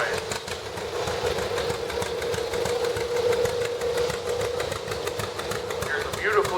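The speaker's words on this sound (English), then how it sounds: "John Deere 60. Owned by Kiefer Brothers out of Maple Park," A John Deere 60 tractor owned by the Kiefer Brothers of Maple Park, Illinois, idles in a Sycamore street parade, a steady low engine chug under a loudspeaker announcer's voice and crowd noise.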